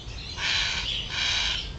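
A bird calls outdoors in a garden in the morning, giving two harsh, drawn-out cries over a steady background hiss.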